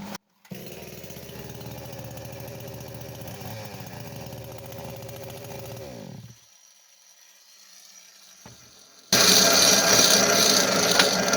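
A Chinese Kitprom chainsaw engine, already warm, runs at a steady buzzing idle for about six seconds and then cuts out. After a quiet gap, a loud, harsh burst of noise takes over to the end.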